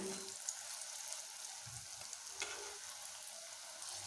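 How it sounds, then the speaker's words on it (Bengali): Sesame rice snacks frying in oil over low to medium heat while being turned, a continuous close crackling sizzle with a couple of soft bumps, no speech heard. "লো টু মিডিয়াম হিটে ভেজে নিতে হবে"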